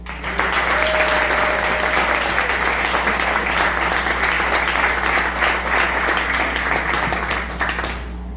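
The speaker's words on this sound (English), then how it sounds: "Let's make some noise for Josh Johnson." A large crowd applauds loudly and continuously, dense clapping with some cheering, sustained for several seconds before easing slightly at the end.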